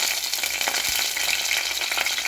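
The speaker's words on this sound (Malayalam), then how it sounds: "ചട്ടി ചൂടായി അതിലേക്ക് ഞാൻ കുറച്ച് വെളിച്ചെണ്ണ ഒഴിച്ചു. ഇനി ഇടാൻ പോകുന്നത് കറിവേപ്പില." Curry leaves hit hot coconut oil in a nonstick pan, giving a close, bright crackling sizzle with quick pops that runs steadily through the short stretch, no voices over it.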